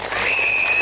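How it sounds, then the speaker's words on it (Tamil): A school annual day audience breaks into a short burst of dense, steady applause for the teachers, filling the hall evenly with no voices over it. "அவங்களுக்கு நல்ல கைத்தட்டல் தாங்க"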